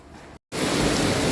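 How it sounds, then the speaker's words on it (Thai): Heavy rain pours down outside a shop, a loud, dense, steady hiss that cuts out for a split second and then returns even stronger. "ซื้อข้าวสารแล้วแล้วฝนตกหนัก"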